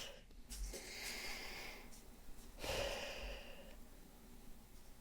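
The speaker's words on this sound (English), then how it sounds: "Take a deep breath." A long, deep breath drawn in and then slowly exhaled as a sigh, followed by a second audible inhale, close and quiet with no words spoken.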